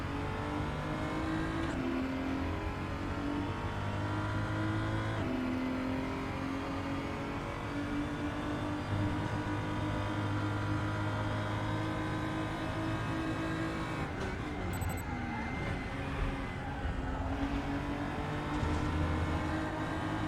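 BMW race car engines roar steadily in RaceRoom Racing during a close battle on track, a loud continuous drone that rises and falls with gear changes, with a brief burst of extra noise midway and no talk.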